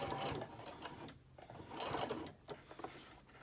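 A sewing machine stitching a candy corn print mug rug, its fast needle chatter running in close bursts with short pauses between passes, no talking.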